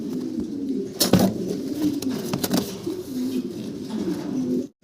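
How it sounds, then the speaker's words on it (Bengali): A pair of Damascene (Iceberg) fancy pigeons coo close by in a run of low, repeated throaty notes, broken by a couple of short sharp clatters. "ভাইয়ের কাছে চমৎকার এক জোড়া ধামাসিন কবুতর আছে"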